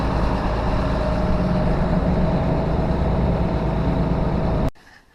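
A tractor idles steadily while powering a vertical mixer feed wagon, giving a continuous low rumbling drone close by that cuts off abruptly near the end.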